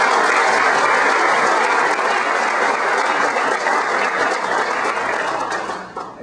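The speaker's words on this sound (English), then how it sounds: "let's recognize them with a round of applause." A breakfast fundraiser audience gives a steady round of applause for the organizers, dense and loud throughout before thinning slightly at the end.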